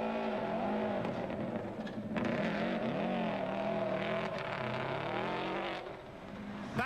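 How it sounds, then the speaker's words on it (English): A rally car spinning on a forest stage at a forestry rally, its engine revving loudly and wavering in pitch with shifting tone as it slides, close and continuous, with no talk. "But even the most experienced can make mistakes, and this spin costs Kevin dearly."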